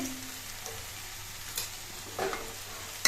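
Banana stem curry with mustard paste being stirred in a pan, a faint low sizzle with soft occasional scrapes of a spoon, quiet and alone.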